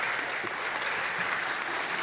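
Steady, dense applause from an audience at a blue ribbon school ceremony, a continuous close patter of many hands clapping with no voices over it.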